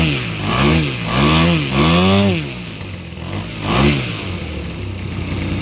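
An EME120 model aircraft engine fitted with JMB Brecka canisters and headers runs on a test stand, its loud buzzing exhaust rising and falling in repeated revs before settling toward a steady idle.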